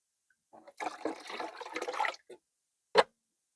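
Water poured and splashing into a bucket for a refill, a close, moderately loud burst of about two seconds followed by a few brief splashes and a single sharp clunk.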